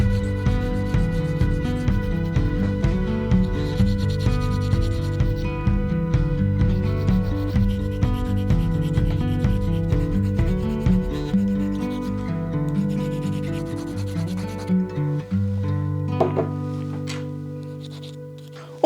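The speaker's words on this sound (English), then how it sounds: "I make sure that it's secure in between my fingers, and then I just file and file" A canna seed held between the fingers is filed by hand, giving a steady, close rasping scrape that repeats in even strokes for the whole stretch and thins out near the end. No one speaks.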